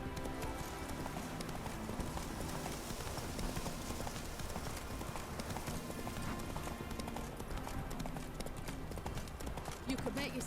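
Roach the horse galloping in The Witcher 3, a steady, rapid clip-clop of hooves that runs on without a break under a dense, busy game soundscape.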